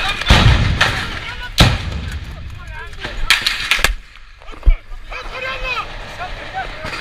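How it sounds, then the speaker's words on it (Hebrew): Grenades thrown inside a building during an attack burst as several sharp, loud blasts with heavy low thuds spaced irregularly over a few seconds, under an ongoing voice. "המחבלים משליחים רימונים פנימה."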